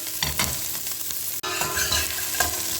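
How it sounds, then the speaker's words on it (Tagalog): Garlic and onion sautéing in hot oil in a cooking pot, a continuous loud sizzle with stirring and scraping throughout, briefly interrupted once. "Igisa na natin yung ating bawang at sibuyas."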